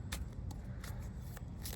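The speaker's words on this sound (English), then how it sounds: "It is a brand new deck, so I'm also going to just kind of shuffle it up a bit" A brand-new tarot deck is shuffled by hand, giving a handful of quick, soft papery riffle bursts close by in a quiet room.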